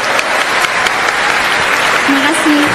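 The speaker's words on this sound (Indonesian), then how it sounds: "tepuk tangan buat Maryam." Steady, dense applause from a school audience for a high school student named Maryam, loud and sustained throughout with a faint voice or whistle near the end.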